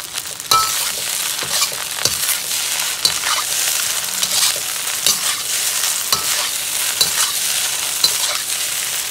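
Hong Kong style shrimp fried rice stir-fried in a hot pan, with a steady loud sizzle broken by repeated scraping and tossing strokes of the utensil, continuing throughout with no talking.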